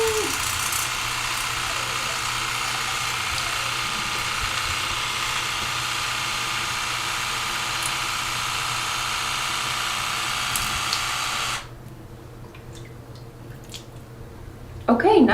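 A Binicare travel-size water flosser runs with a steady, loud motorized buzz and gushing water spray for about eleven seconds, then cuts off abruptly, leaving quieter room noise and a brief thump at the end.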